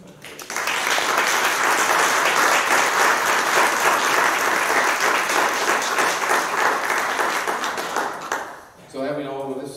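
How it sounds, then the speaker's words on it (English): A church congregation applauds at a traditional worship service, a loud sustained round of clapping that fills most of the clip before fading, followed by a brief voice at the close. "if you would like to give them a round of applause at this time."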